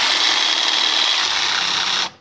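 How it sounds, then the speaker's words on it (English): Electric drill running on a slow setting to drive a screw, a steady continuous whirring grind held evenly for about two seconds, close and loud, then cutting off abruptly. "trigger activated electronic rotary drilling device. Right? Stick it on slow setting."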